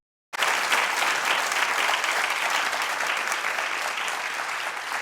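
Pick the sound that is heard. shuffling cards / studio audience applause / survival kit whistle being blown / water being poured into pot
studio audience applause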